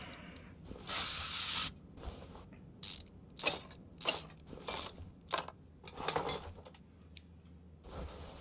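Rapid ratchet clicking in Car Mechanic Simulator 2021 as bolts come off an oil pan, several short bursts separated by pauses, along with a longer hissing spray and small metallic clinks, close and clear.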